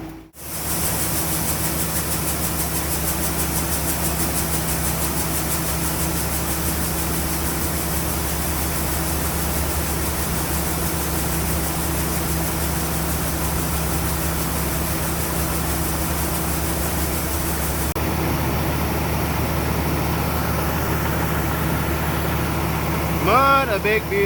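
A farm tractor pulling a grain cart through muddy soybean fields runs at a steady, loud idle-like drone with a constant low hum, continuous throughout with a slight change near the end.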